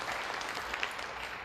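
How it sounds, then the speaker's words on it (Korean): A church congregation at a Korean university-group worship service gives a round of applause, a soft, steady patter of many hands heard at a distance and fairly quiet throughout. "주님께 우리 영광의 박수 한번 올려드리도록 하겠습니다"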